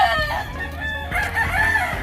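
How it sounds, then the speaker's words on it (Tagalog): Farm chickens, a flock in a storm-damaged coop, crowing and clucking steadily in overlapping calls close by, with no talk. "Ayan yung mga manok niya dito."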